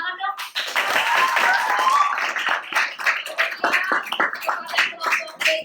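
Children in a primary school classroom clap for a group, with a dense burst of hand claps under excited voices and chatter. The clapping settles into scattered claps as talk continues.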